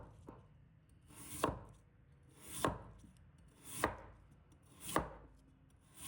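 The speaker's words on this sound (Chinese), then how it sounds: "接下来我们准备2个马铃薯，把它切成片" A knife slices raw potatoes into even pieces on a cutting board, with four slow, evenly spaced chopping strokes, each a crisp cut ending in a firm thud, heard up close with quiet between the strokes.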